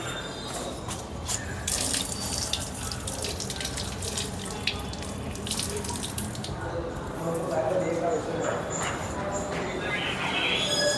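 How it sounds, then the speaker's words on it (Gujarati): A tap runs steadily while hands are washed at a hostel sink, a continuous splashing wash of water with voices talking over it throughout. "પહેલાં હાથ ધોઈ નાખું પહેલાં"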